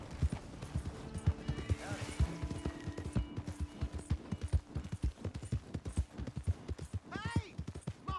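Rapid hooves clip-clop in a quick, rhythmic gallop up close in the video game Red Dead Redemption 2, with a horse's whinny rising partway through and short voices breaking in.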